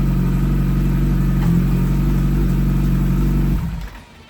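A Kawasaki ZX14R motorcycle engine idles close by with a steady, throbbing low rumble, then cuts off near the end and fades into quiet; no one speaks over it.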